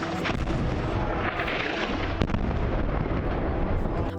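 Airstrike explosions in southern Beirut make a dense, continuous, loud rumbling roar, with a few sharper cracks and booms inside the din and no talking.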